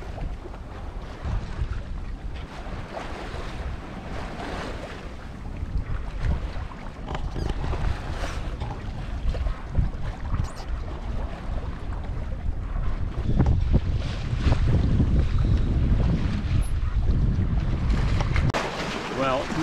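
A C&C 30 sailboat moving under wind at about 4.5 knots on open water, steady broadband wind rush over the microphone with water and waves sloshing along the hull, growing slightly stronger toward the end.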